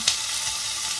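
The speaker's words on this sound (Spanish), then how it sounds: "Voy a poner a sofreír un poco de bacon" Bacon sizzles in a frying pan with a steady, close broadband crackle and one brief sharper pop near the start.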